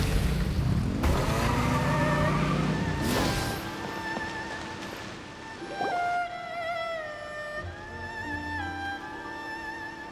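Car engines in a video game rev and whine with rising and falling pitch, a loud busy burst of engine noise at the start that settles into sustained tonal revving with tire-like squeals, no talk over it.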